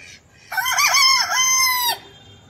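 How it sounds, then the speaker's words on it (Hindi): A rooster perched in a tree at night crows once, a loud, close, drawn-out call rising and falling over about a second and a half against a quiet background. "पेड़ों पर बैठे हैं मुर्गे।"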